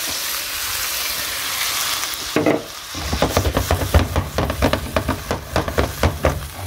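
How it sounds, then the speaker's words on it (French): Diluted marinade juice hits a hot pork sauté pan, a loud steady sizzle that gives way after a short splash to rapid rhythmic scraping and stirring strokes, with no voices. "Le jus de marinade qui vous restait ici, je l'ai détendu avec un petit peu d'eau. Donc là, on va venir déglacer."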